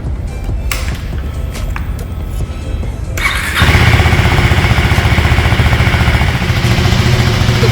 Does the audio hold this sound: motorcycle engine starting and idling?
yes